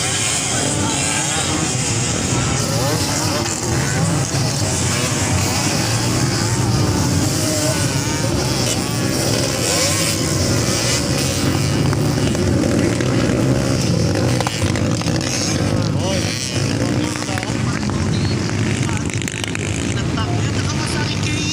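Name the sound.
motocross motorcycles racing, Honda XL 125, 185 and 200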